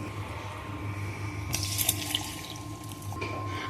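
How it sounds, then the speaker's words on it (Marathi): Water pours in a short splashing stream into gram flour for dhokla batter over a low background hum, starting midway and lasting about a second and a half, close by. "आता आपण पाणी घालून घेऊया"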